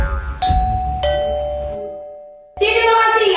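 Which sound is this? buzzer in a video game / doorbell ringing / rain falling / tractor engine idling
doorbell ringing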